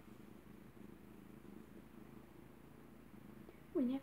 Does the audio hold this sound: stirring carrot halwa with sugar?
no